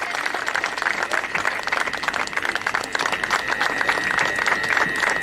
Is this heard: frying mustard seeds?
no